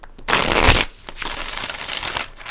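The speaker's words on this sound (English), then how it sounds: "Shuffle." Tarot cards from the Black Violet Tarot deck being shuffled by hand, two dense bursts of riffling card noise with a short pause between, close and fairly loud, with no talking.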